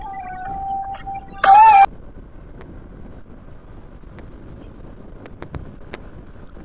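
Steady low wind rush from a vehicle moving along a road toward Chitradurga Fort in Karnataka, with a brief bright electronic tone near the start and a few soft knocks later, no speech.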